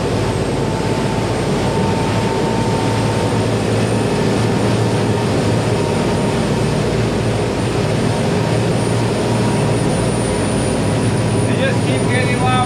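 Old mechanical turbo diesel boat engines under heavy load while the boat climbs onto plane, a loud steady drone with turbo whine running the whole time.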